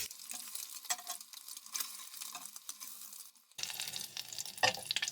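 Eggs fry in hot oil for an egg keema korma, giving a close, continuous crackling sizzle with bright spattering pops that briefly dip before resuming.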